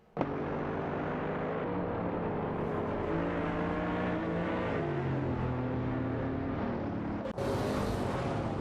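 Racing game cars, a De Tomaso Pantera GT5 ACE and a Lotus Exige, rev and whine with shifting engine pitch for several seconds, a sharp rise near the end, no voices.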